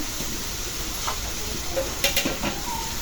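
Goat meat being sautéed over a wood-fired stove, a steady close sizzle with faint scraping of a spoon and a few light metallic clinks near the end.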